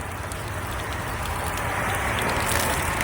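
Heavy rain pouring onto hunting rain gear outdoors, a dense, loud, continuous hiss of drops drumming close on the fabric with no voices, steady from start to finish.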